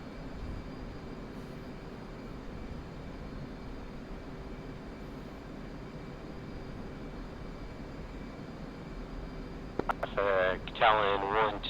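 An F/A-18C jet in DCS World drones steadily near Nellis Air Force Base, a continuous engine roar with a faint tonal whine running throughout, and a brief burst of radio-style chatter near the end.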